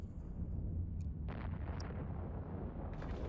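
Heavy faction missiles explode in a space battle in EVE Online, with a few muffled booming detonations over a low, steady rumble at moderate volume.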